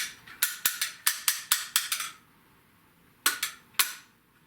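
Nerf toy grenade popping off, a quick run of about nine sharp cap-like snaps in a row, then a pause and two more cracks, loud and close with no voices.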